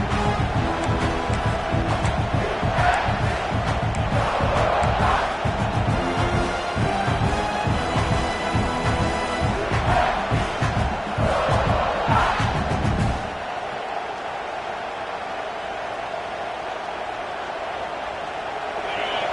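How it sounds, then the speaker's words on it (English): A loud football stadium crowd roars and cheers early in a playoff game, a dense sustained wall of voices that swells in waves, then drops sharply to a quieter murmur near the end. "It's early, but this crowd is fired up. Listen to this noise here."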